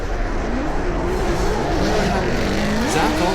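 A Lone Star Drift pro-am drift car, fitted with a dog box, snarls at high revs with rising and falling engine pitch and hissing tire noise, loud and sustained throughout.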